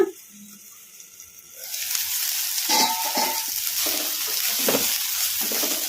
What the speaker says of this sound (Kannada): ಚೌಳಿಕಾಯಿ ಚೆನ್ನಾಗಿ ಫ್ರೈ ಆಗಿದಾವಲ್ಲ